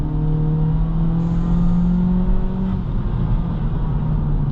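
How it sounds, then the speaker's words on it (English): A Honda Civic Sport with a CVT gives off a steady, monotone engine drone while driving, with a constant low hum and road noise and no shifts in pitch. "CVT doing its work, and drone, this is not great"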